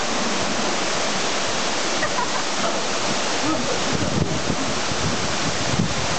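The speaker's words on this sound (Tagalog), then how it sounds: "Oh, talon." Bugtong Bato waterfall rushing in a steady, dense roar that fills the whole clip, loud and close, with faint wind buffeting the microphone.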